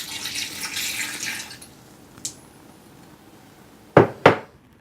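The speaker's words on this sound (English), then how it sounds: "I'm going to pour in the 1/2 cup of wine." White wine goes from a measuring cup into a crockpot holding a whole chicken, making a soft splashing trickle that fades out, with two sharp knocks of glass or crockery close by near the end.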